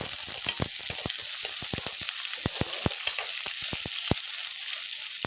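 Okra and onion frying in a pan, a steady close sizzle with a dense scatter of sharp pops and crackles and no talking.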